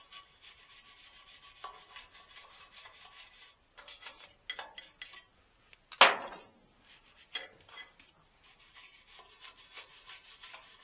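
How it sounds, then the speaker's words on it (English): A wire brush scrubs a freshly welded, still-warm joint on a trailer during a winch relocation, giving short raspy strokes in bursts with pauses between them and one sharp louder scrape partway through, no talking. "we're going to give her a wire brush in here"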